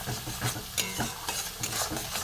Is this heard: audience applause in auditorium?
no